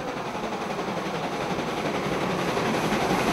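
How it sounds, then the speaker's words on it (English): A Märklin model two-cylinder locomotive runs along its tracks with a continuous, fairly loud rolling rumble and fine rattle, steady for a few seconds without a break. "a two-cylinder locomotive is a little bumpier on the tracks"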